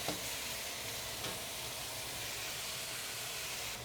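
Eggplant in douban sauce sizzling in a wok after a quick toss, a dense continuous close hiss of frying with no talking.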